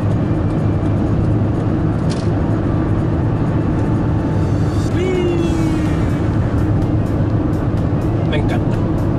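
A 1997 Mercedes-Benz C200 Elegance W202 coasts after the accelerator is released, a steady interior road and engine drone with faint clicks, while someone talks over it throughout.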